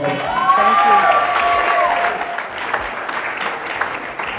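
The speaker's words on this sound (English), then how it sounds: "let's give her one more round of applause" An awards-event audience gives one more round of applause, a loud burst of clapping with a brief sustained tone over its start, tapering after a couple of seconds into lighter scattered claps and murmuring voices.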